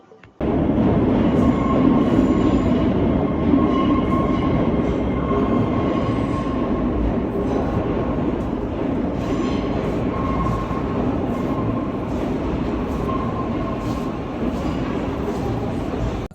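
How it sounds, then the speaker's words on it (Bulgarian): Steady low rumble of a Sofia Metro train at Serdika station, underground, with rolling wheel noise and faint hum, continuous throughout. "Метростанция Сердика."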